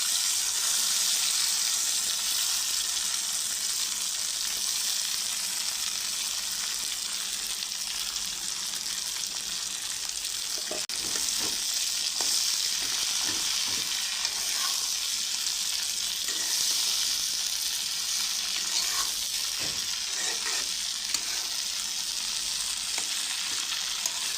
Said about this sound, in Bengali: শাকটা বাগার দিয়ে দিলাম।